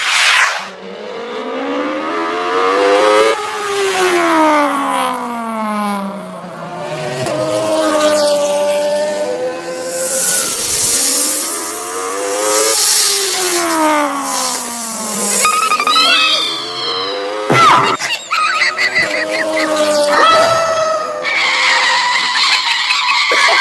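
Cartoon motorbike sound effects: repeated tire skids and revving engine whines swoop up and down in quick succession, loud and close, with no talking.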